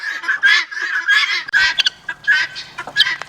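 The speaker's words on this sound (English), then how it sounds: "The guineas are so loud." Guinea fowl call loudly and repeatedly in a farmyard, harsh rhythmic cackling bursts overlapping one another close by.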